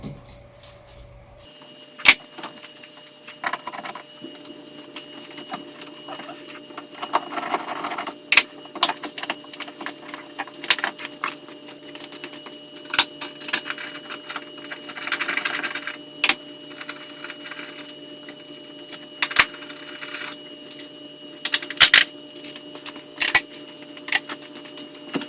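A 10mm socket works loose the negative battery terminal on a 2012 Jeep Wrangler. Close metallic clicks and ratcheting ticks repeat over a faint steady hum.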